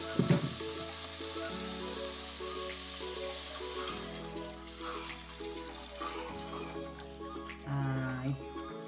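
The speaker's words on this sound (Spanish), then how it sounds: "Y que le vamos a añadir el fumé hasta cubrirlo." Cod fish stock made from bacalao bones and head poured into a hot pot for a chickpea and spinach stew, sizzling and bubbling with liquid splashing as it goes in, while a person talks over it.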